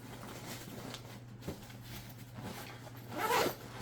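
Zipper on a travel backpack pulled in a short quick run, close and fairly faint, after soft handling and rustling of the bag's fabric, with no talk.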